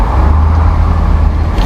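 A truck engine with a fault, idling loud and close with a steady low rumble and a rapid stream of small pops, like fireworks going off, running through the whole short stretch.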